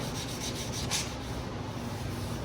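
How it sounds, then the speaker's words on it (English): Sanding of a wooden dining tabletop produces a continuous loud abrasive rasp, steady back-and-forth rubbing close by with no speech over it. "are you going to sand your project?"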